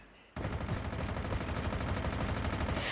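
Dense, sustained gunfire in a Call of Duty-style shooter match, kicking in abruptly after a brief quiet moment and continuing as rapid overlapping shots and bursts at a steady loud level.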